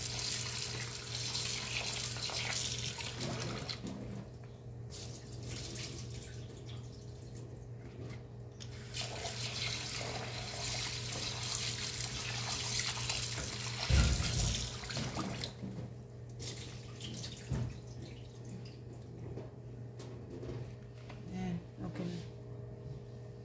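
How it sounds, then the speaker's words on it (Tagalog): Glutinous rice is washed with running water, giving a soft, uneven splash and trickle from a tap into a bowl, with quieter stretches and a brief clatter partway through. "Hugasan muna natin guys yung halagkit bago natin ilagay yung gata"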